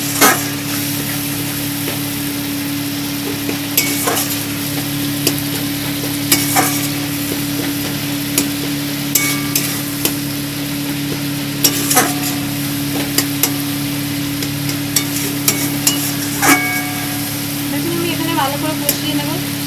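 A mixed spice paste stirred and fried in a pan for gandharaj lime prawns, loud steady sizzling with repeated spatula scrapes and knocks, over a constant low hum.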